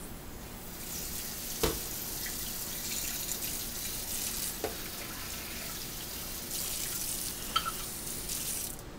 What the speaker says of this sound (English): Once it's done, you'll rinse it with cold water thoroughly